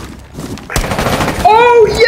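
Video game gunfire shot through a wall, a burst of rapid shots starting sharply partway in and continuing to the end, with voices talking over it.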